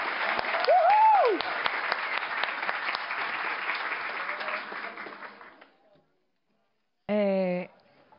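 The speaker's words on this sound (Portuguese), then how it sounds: "Palmas para todas!" A crowd applauds at a council session marking International Women's Day, steady clapping with a cheer early on that fades out after about six seconds, followed by silence and then a short burst of voice.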